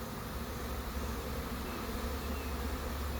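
An incoming honey bee swarm fills the air with a dense, continuous buzz, steady and fairly close throughout, with no voices.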